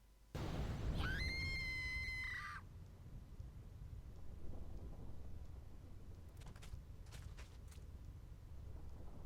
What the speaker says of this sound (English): The lightning isn't gonna stop anytime soon.